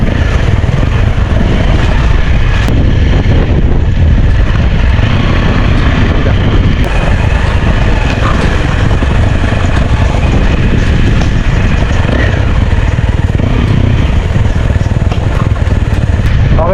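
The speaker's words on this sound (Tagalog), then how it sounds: "Engine brake." Motorcycle engine braking on a downhill descent of Mt. Corona, a steady low rumble with wind buffeting the microphone throughout, close and continuous with no clear gear changes.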